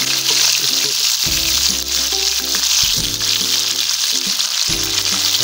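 Chicken tikka pieces sizzle steadily on a hot tawa, a loud continuous frying hiss with scattered pops, interrupted by a few tonal kitchen clanks and scrapes.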